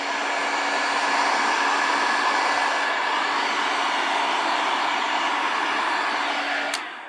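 A hair dryer blows steadily and loudly up close while drying the body of a Squier Bullet Stratocaster during a refinish, a constant rushing hum that cuts off at the end.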